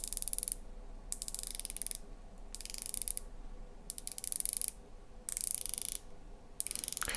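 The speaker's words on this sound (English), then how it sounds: "We have a ceramic bezel, 120 click unidirectional," The ceramic 120-click unidirectional bezel of a Cronos L6005 dive watch is turned close up, producing rapid, fine ratcheting clicks in several bursts with short pauses between them.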